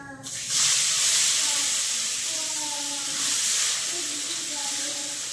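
A sudden burst of loud hissing as chopped onions hit hot oil, settling into a steady sizzle that swells briefly again near the end.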